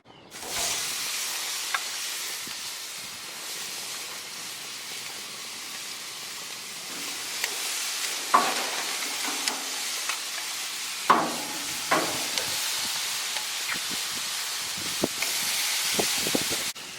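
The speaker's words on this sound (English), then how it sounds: "we're doing fast searing because we don't want the lamb to become chewy" Jerk lamb marinated in olive oil sears fast on a hot grill, giving a steady close sizzle and hiss throughout, broken by occasional sharper pops and crackles.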